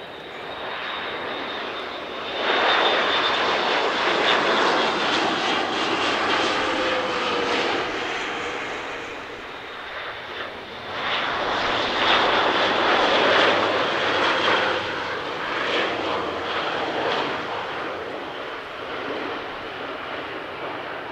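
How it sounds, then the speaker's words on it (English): Two Atlas C1 strategic airlifters make a flypast at the RAF Cosford Air Show 2024, their engines swelling loudly in two successive roaring passes with a brief dip between them. "These two Atlas C1s performed a flypast at Cosford while routing back to their base at RAF Bryce Norton on return from deployments overseas."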